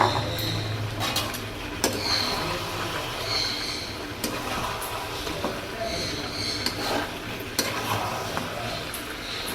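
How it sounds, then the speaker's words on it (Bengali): Chicken and potato pieces are sautéed in a pan, with repeated scraping stir strokes and clinks over a continuous sizzle. A voice talks quietly in the background. "মাংসটা কষানো হয়ে গেছে কিছুটা, এবারে আলুটা দিয়ে দেবো। আলুটা দিয়ে আবার কষাবো।"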